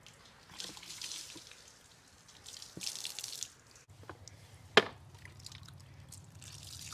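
A puppy being rinsed under running water, with a soft trickle and scattered drips splashing near a sink, fairly quiet, with one sharper splash or knock partway through.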